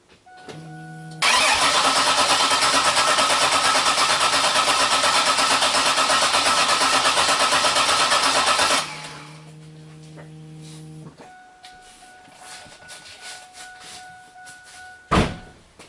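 A six-cylinder engine held in clear flood mode for a compression test cranks over steadily for about seven seconds, an even rhythmic churning that stops without the engine firing. A quieter hum follows, then a brief sharp clatter.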